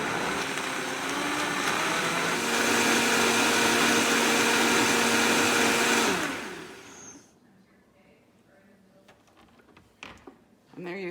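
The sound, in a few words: blender blending broccoli soup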